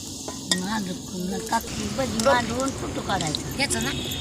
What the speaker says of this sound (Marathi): भजी पालक भजी बघ किती छान तळलेत